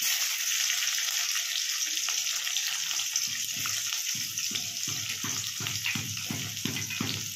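Chopped onion and tomato hit a hot pan for a paneer bhurji, and steady sizzling frying fills the pan with a series of rhythmic scraping stirs toward the end, up close with no talking.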